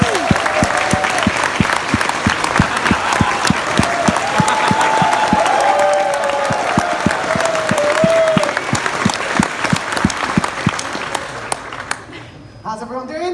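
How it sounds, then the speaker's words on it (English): Audience applause at the closing ceremony of a 2019 event, dense steady clapping from a large crowd that swells then fades near the end, with a faint voice under it. "So we can give that a big round of applause."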